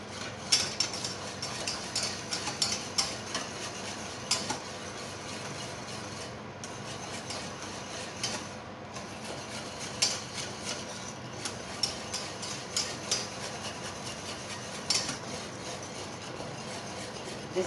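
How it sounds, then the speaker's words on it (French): A spoon stirring thickening béchamel sauce in a pan on the stove, repeated soft scraping and rubbing strokes in an uneven rhythm, close and quiet, with no voices. "Il faut tout le temps bien brasser."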